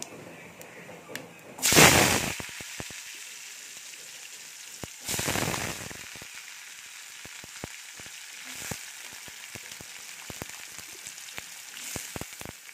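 Chopped potatoes dropped into hot oil in a frying pan burst into a loud sizzle, flaring again a few seconds later as they are stirred, then settling into steady crackling frying.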